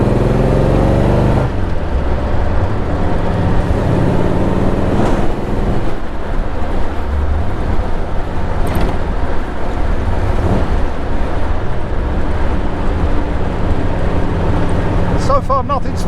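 A car with a freshly rebuilt side-valve V8 engine drives gently, giving a loud, continuous low rumble and drone from inside the car with road and wind noise throughout.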